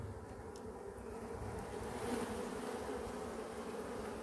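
A honeybee colony buzzes steadily at an open hive, a dense continuous drone of many bees close by with no voices over it.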